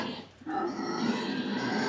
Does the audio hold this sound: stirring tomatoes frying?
no